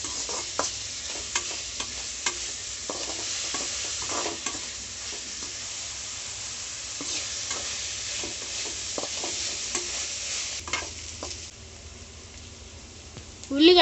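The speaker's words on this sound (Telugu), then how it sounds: "పచ్చి వాసన పోయే వరకు వేపుకుందాం." Onions fry in a pan with a steady close sizzle while a spoon stirs them in intermittent scraping strokes, and a voice speaks briefly.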